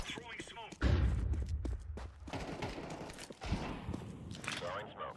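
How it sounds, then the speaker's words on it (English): A smoke grenade is thrown in Counter-Strike 2 with a sudden thump and a long hiss, mixed with footsteps and mechanical game clatter, while a voice calls out over it. "Throwing smoke."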